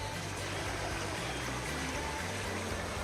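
A muddy, milky creek swollen with storm water flows in a steady, low rushing wash, faint and continuous with no voices.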